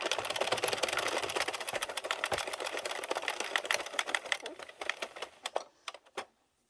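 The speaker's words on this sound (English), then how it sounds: "it's going to be my last row of waste" Knitting machine carriage knitting a row of waste yarn, a rapid clattering run of mechanical clicks that thins into a few scattered clacks before stopping, close and fairly quiet.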